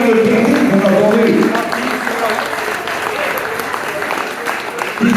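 A crowd applauds the mayors at the 40th anniversary of a motorcycle club, with dense clapping from many hands that starts loud and gradually thins out, while a voice speaks faintly underneath.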